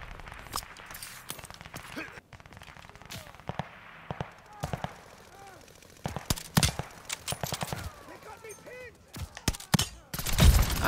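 Sniper rifle and other gunfire from a shooter video game pop in scattered bursts, sharp cracks that grow denser and louder toward the end, while someone talks over the action.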